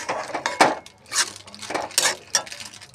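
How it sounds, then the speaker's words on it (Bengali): Punjabi rajma ingredients with chopped coriander are stirred in a pan, making close, irregular scrapes and clinks of a spoon against metal in short bursts of uneven rhythm. "আমি ভালো করে এটা পুরো মিশিয়ে নিচ্ছি"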